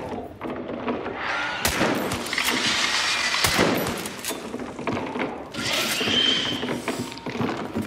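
Video game gunfire: bursts of rapid automatic shots and scattered single cracks, fairly loud and dense over a busy mechanical background, with no talking.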